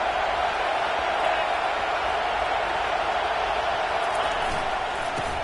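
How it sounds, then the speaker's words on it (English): Football stadium crowd at an Arkansas versus Missouri game, a steady roar of cheering and noise that fills the whole span without any break. "This crowd knows when to bring it."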